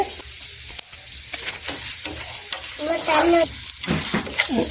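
A small piece of ginger fries in a pan with a close, bubbling sizzle, broken by stirring and faint background sounds.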